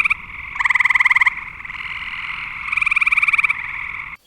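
Eastern gray tree frog calling: loud, close musical trills repeated in bursts over a steady chorus of other frogs, with no voices.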